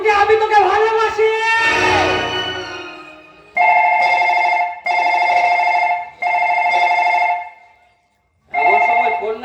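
A telephone rings in a staged Bengali jatra folk play, with four evenly spaced electronic ring bursts after a stretch of loud theatrical speech and music.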